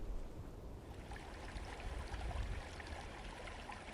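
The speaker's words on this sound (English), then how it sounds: "We are next to the creek right where the trail does cross over." Spring Creek near Cedar City flows beside a trail crossing, a soft, continuous broadband wash of running water with low rumbling gurgles, heard quietly and alone.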